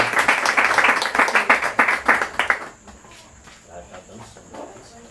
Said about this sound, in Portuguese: Pode bater uma salva de palmas para Jesus